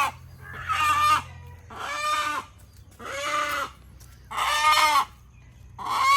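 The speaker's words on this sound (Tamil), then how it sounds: "கோழி இப்படி காட்டுங்க." Chickens cluck and crow in repeated bursts at an outdoor village puja for an areca palm, five loud calls with short pauses between them and no one talking.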